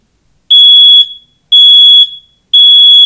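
A smoke detector's test button is pressed: it sounds three loud, shrill beeps in an even rhythm, each about half a second long with short silent gaps between.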